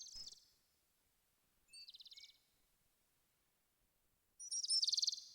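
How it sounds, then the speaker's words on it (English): Short bird chirps and trills from the 1990 PC game King's Quest V, played through a Roland SC-55 sound module: a chirp at the start, a rapid warbling trill midway, and a louder, brighter trill near the end, with silence between. "So the bird sounds sound pretty good."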